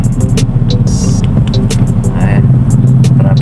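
Car engine hum and rolling tyre noise while driving through slow city traffic near Brixton Tower, with sharp clicks and faint passing sounds over a steady low rumble.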